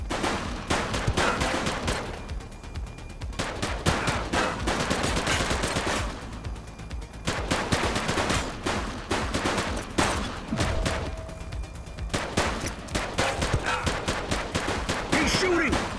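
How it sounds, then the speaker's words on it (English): Rapid bursts of gunfire crack through a police shootout in the video game The Precinct, loud repeated volleys of automatic and single shots with short pauses between, and voices shouting over the firing. "He's shooting!"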